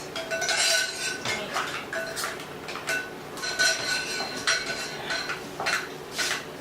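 Cake batter mixed in a plastic bowl, with a utensil scraping and clinking against the sides in a steady, uneven stirring rhythm, close and moderately loud, with no voices.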